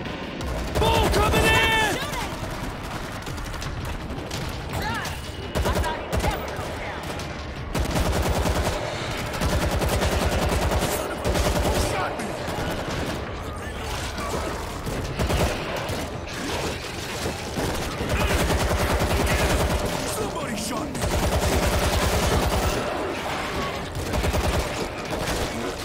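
Gunfire in the zombie shooter World War Z, with dense bursts of rapid automatic shots and mechanical weapon clatter over chaotic game noise, and shouting voices in between.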